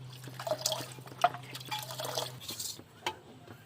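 Water is poured into a pot of mutton soup during cooking, making soft splashing, dripping and trickling sounds against a low steady hum from the kitchen.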